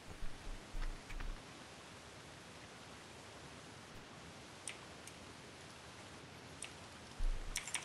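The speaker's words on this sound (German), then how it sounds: "Oh, es regnet." Rain falls in the survival video game The Forest as a steady, even hiss through the whole stretch, with a few faint ticks and soft bumps on top.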